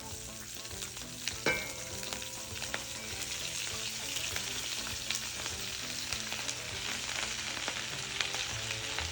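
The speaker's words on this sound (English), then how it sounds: "And as soon as it pops, that's when you want to start putting your cabbage in." Mustard seeds and cabbage sizzle and fry steadily in a full pan, with a continuous close hiss broken by occasional pops and the scrape of stirring.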